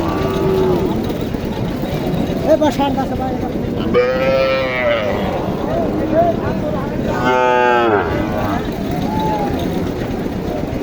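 Cattle at a village livestock market in Naogaon, Bangladesh, moo loudly twice in long harmonic calls over a constant crowd murmur, with people talking and shorter lowing in between.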